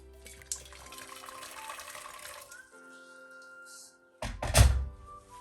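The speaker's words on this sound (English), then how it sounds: "I'm going to add in some warm water in my pan" Warm water runs and splashes into a pan for steaming bao buns, with a soft hiss, followed by a few clunks and louder splashing near the end; no one speaks.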